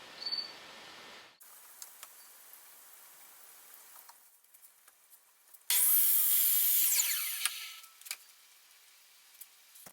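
A walnut block is cut in two at an 18-degree angle. A short, loud, hissing saw burst sits midway, surrounded by quieter scattered clicks and workshop handling noises.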